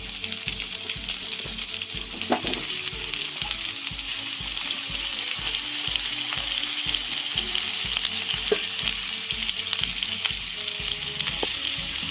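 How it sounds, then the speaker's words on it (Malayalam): Snake gourd and drumstick pieces saute in hot oil in a pan, a steady close sizzle and fry with rhythmic stirring scrapes throughout, no voices. "എണ്ണയിലൊന്ന് വാട്ടിയെടുക്കാം."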